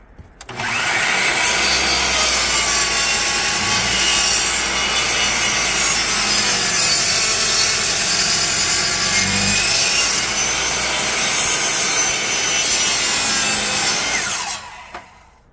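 Hand saw cutting through wood for a 15-inch subwoofer enclosure, a steady, continuous rasping stroke sound close by that runs loud for about fourteen seconds before stopping.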